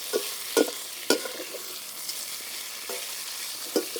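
Pork belly browning in a hot wok outdoors gives a low continuous sizzle, punctuated by occasional scraping stirs and metallic knocks of the spatula.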